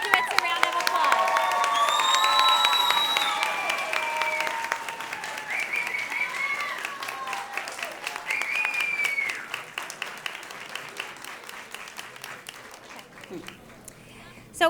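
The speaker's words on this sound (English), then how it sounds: "Let's give all of our graduates a round of applause." Audience at a summer school graduation ceremony claps and cheers for the graduates, with excited shouts and whoops, steady applause that gradually thins and fades toward the end.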